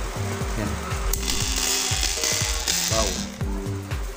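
A cheap secondhand electric grinder is switched on for testing, giving a loud, close mechanical rattling and ratcheting whir with a repeating stuttering rhythm, as if it keeps faltering rather than running smoothly.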